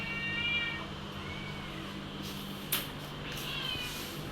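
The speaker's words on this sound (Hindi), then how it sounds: "हमारी जो बिल्लियाँ हैं वो पीछे से गुहार लगा रही है बाहर निकलने के लिए" Cats meowing plaintively at night from somewhere behind, wanting to be let out, a few drawn-out calls over a steady low hum, with a short bump partway through.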